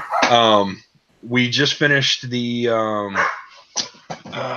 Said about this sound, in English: Excuse the barking dogs.